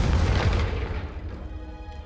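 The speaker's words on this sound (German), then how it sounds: "denn wir können damit Dinge explodieren lassen" A magical explosion spell detonates in Hogwarts Legacy, a loud booming blast with a heavy low rumble that swells at once and then slowly decays into a rolling tail.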